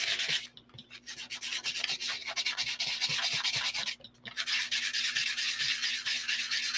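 Close, continuous hand sanding with 120 grit sandpaper produces a quick rhythmic scratching, briefly pausing twice, over a faint steady hum in the background.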